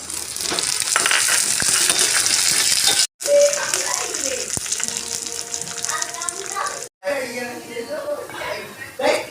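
Mustard seeds and curry leaves sizzling and crackling in hot oil for a ripe mango pulissery, a steady loud frying hiss broken by two brief cuts, with a voice talking over it.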